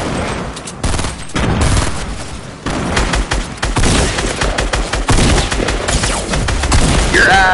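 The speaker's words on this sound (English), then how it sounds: "Oh, that's my blue AR that he's shooting." Rapid bursts of automatic fire from a blue AR rifle in a shooter game crackle loudly and near, with short pauses between volleys and a few distant echoing shots.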